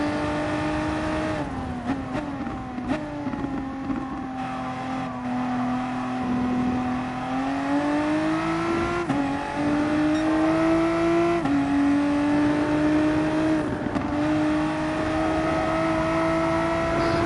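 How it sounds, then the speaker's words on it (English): A VW Supersport race car downshifting through a corner at the Nürburgring GP circuit in a video game, its engine tone stepping between gears in a steady, continuous drone that rises and dips as it slows, loud and up close with no talk. "the gear changes are not erratic, they're not hitting limiters, it's helping the car slow down"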